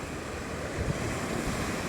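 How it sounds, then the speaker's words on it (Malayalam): Strong sea waves and gusting wind roar at a Kerala river mouth where fishermen cast nets. The rough surf is a constant, close, broad wash with wind buffeting, and no talk. "അതിശക്തമായ തിരമാലയും കാറ്റുമാണ്"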